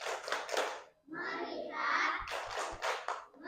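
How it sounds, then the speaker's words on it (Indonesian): Children in a classroom clap a rhythmic 'tepuk fokus' routine, quick hand claps in short patterned bursts mixed with their chanted voices, fairly close. "Nah, sebelumnya Umi mau kamu semua tepuk fokus."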